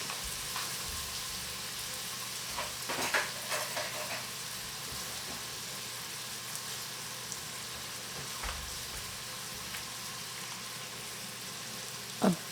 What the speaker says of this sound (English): Okay, now we can put in the miso paste.